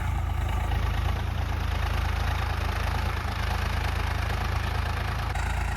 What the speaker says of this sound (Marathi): आवाजावरून तुम्हाला कळाला असेल कोणता ट्रॅक्टर चालू आहे